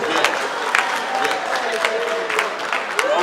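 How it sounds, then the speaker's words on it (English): Audience at an academic conference on African origins applauds steadily for about three seconds, a dense even wash of clapping with a few louder individual claps and some murmured voices mixed in. "Round of applause for you, please."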